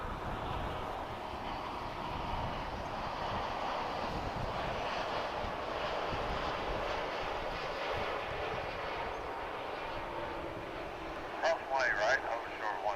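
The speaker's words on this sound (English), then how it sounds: "this is a flight from Maui coming in, Dreamliner, on Runway DFW" A Boeing Dreamliner airliner arriving from Maui comes in to land at DFW airport, heard as a faint, distant, steady jet roar with airy broadband wash lasting throughout, plus a few brief higher-pitched sounds near the end.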